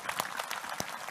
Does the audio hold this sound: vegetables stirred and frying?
no